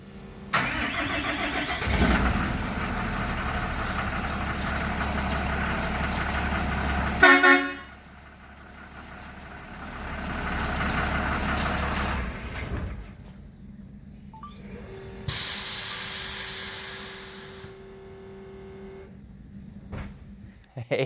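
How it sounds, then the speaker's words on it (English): A Cummins diesel from the 1998 to 2006 era fitted in a Mopar lowrider starts and runs loud and close, with a sharp horn blast cutting in briefly near the middle, followed by steady idling and another tonal horn sound later. "now there's a Cummins diesel from the 1998 to 2006 era stuffed under the hood. Here's a video of it running"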